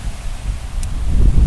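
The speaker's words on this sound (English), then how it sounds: "It's very windy, but it's a nice wind." Gusty wind sweeps through a park on a windy day, a continuous rush and rustle with heavy low rumble against the microphone, building toward the end.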